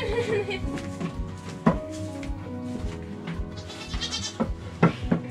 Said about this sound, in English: So here we are, we're milking goats.